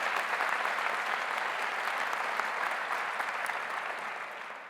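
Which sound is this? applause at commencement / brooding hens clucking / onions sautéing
applause at commencement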